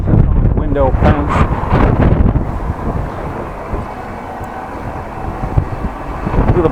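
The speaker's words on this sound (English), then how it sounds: "A little bit of wind, dust, sand blowing around." Wind gusting while cycling through a newly built residential street in Opwierde, Appingedam, blowing dust and sand around; a steady broadband rush with louder gusts at the start and end, and talk over the first couple of seconds.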